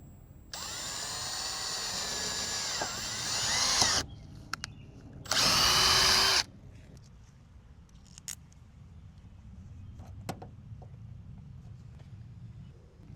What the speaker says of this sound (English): And I get a drill bit about the same size as the hole.